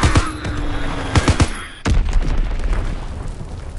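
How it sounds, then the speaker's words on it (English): An enemy bomb exploding in a video game: several sharp booms and bursts early on, a brief lull, then a heavy blast that rolls into a sustained, loud rumble. "Enemy bomb incoming. Get to cover."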